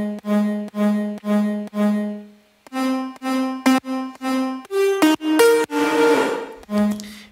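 Two stacked PadShop synth pad layers play a sequence of sustained chords with slightly detached attacks, rich in harmonics and swelling into a brighter, noisier texture near the end, loud and without voices.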